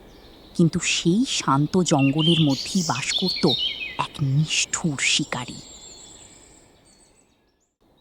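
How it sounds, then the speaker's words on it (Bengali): Birds chirp and tweet through a dense, peaceful forest, with bright, quick calls repeating in the background while a storyteller narrates over them. "পাখিদের কিচিরমিচির"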